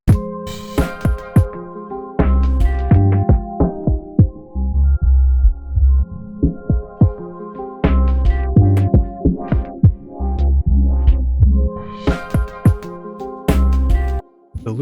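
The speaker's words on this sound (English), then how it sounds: "Knob 1 controls the cutoff frequency, so you can turn that knob to get a nice sweep effect." A Roland P-6 sampler playing a beat while its filter cutoff is swept, pulsing bass hits and percussive clicks that brighten and darken as the sweep opens and closes, loud and alone.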